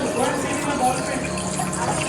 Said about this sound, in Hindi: स्ट्रीमिंग रिवर है।